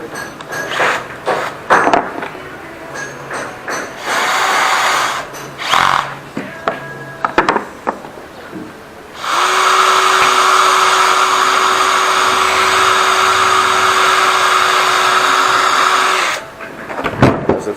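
Bandsaw running through a wooden workpiece held by two screws while making an Ellsworth (Irish grind) jig, a loud steady whining cut of about seven seconds with a sustained tone, preceded and followed by shorter bursts of workshop noise.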